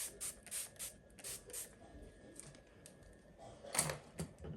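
Face mist setting spray misted over the face in a few short, soft hissing bursts, the last one closer and louder, separated by quiet pauses.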